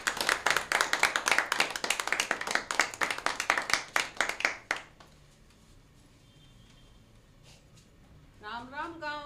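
A live theatre audience claps warmly as an elderly woman is welcomed onto the stage, a dense burst of applause that fades after a few seconds to a quiet room before a voice begins speaking.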